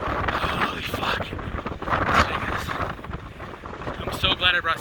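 Strong wind buffets the microphone on a beach, a rough, continuous roar with gusts throughout, while a person talks over it.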